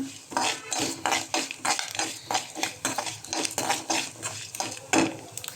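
Moringa and curry leaves being roasted in a pan, with a spatula scraping and tapping against the metal in a quick, uneven rhythm, close up under a faint sizzle.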